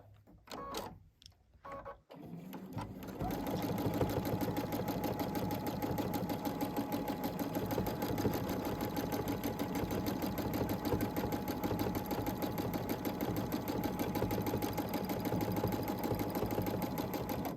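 Sewing machine running steadily for free motion quilting, stitching a gentle curve; a continuous, even mechanical whir with fast needle rhythm that starts after a brief pause and holds close and loud throughout.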